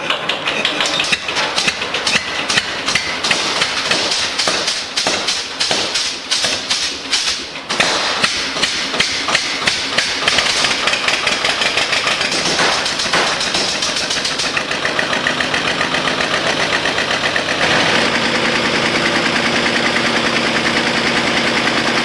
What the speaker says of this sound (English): HP twin-cylinder Listeroid generator, a modern replica of the iconic Lister CS design, thumps to life with a steady melodic rhythm